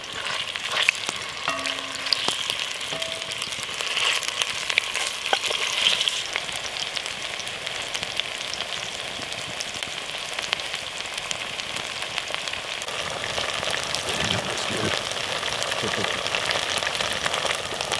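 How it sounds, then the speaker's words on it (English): Meat frying and sizzling in hot oil in a pan over a campfire at a riverside wild camp, a steady hiss that carries on throughout with brief stirring clatter and a little talk. "It's fizzing. Definitely a sizzle."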